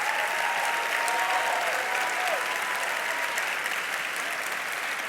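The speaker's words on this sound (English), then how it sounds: "Please give them a round of applause." An audience at a national town hall event applauds congressional fellows, sustained dense clapping from a large crowd that holds steady throughout.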